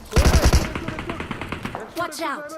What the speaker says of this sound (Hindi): भाई साहब गोलियों की आवाज बंद ही नहीं हो रही